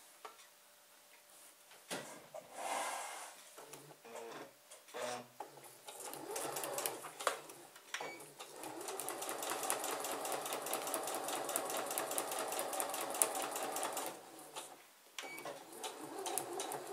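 A sewing machine runs a straight stitch, starting and stopping in short bursts before settling into a long, steady, rapid ticking run, close and fairly quiet.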